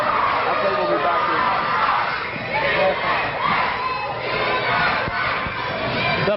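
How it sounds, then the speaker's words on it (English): A lively, partisan crowd at a pro wrestling event cheers and shouts continuously, a dense roar of many voices that swells and dips without a break. "The partisan crowd behind the Heartbreaker, Larry."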